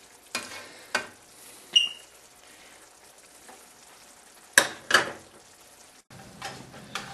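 Nacho cheese sauce simmering in a pan gives a quiet low bubbling, broken by a few sharp close scrapes and clinks as it gets stirred at irregular intervals.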